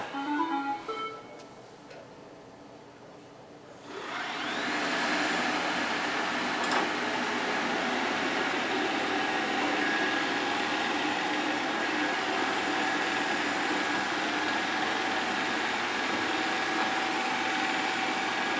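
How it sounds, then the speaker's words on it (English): A Shark Matrix 2300 robot vacuum cleaner starts up after a few quiet seconds, then runs with a steady, close whirring motor drone that continues evenly, with no talk. "both Shark Matrix robots, vacuum cleaners"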